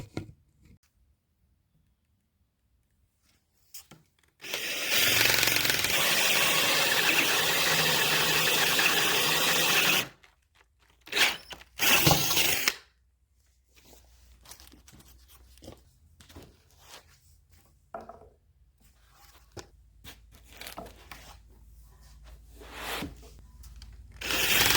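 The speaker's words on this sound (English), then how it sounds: "Now we just need to drill 3 more." A cordless drill bores holes while fitting a DIY rain cover to a Honda Rancher ATV, with one loud, steady whirring run of about five seconds, then a few short bursts and quieter handling noises.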